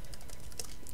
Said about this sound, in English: you type in how to set up a Minecraft server